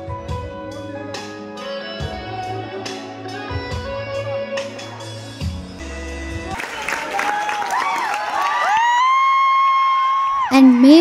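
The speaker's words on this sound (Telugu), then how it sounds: "మేమందరు కలిసి ఒక బిగ్ అప్లాజ్ ఇచ్చాము డైరెక్టర్ గారికి" Audience in a movie theatre at Shanthi Theatre, Narayanaguda, applauding and cheering the director of the film Oye, with clapping and whoops over music and talk, building into louder crowd noise toward the end.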